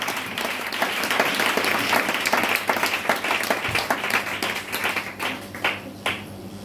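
A church audience applauding to honour the word of God, loud rhythmic clapping from a crowd that gradually breaks into scattered, uneven claps.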